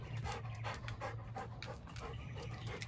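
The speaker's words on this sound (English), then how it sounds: "Oh, you're such a good dog." A farm dog pants rapidly and steadily, close by, with a quick regular rhythm of breathy huffs and no voices over it.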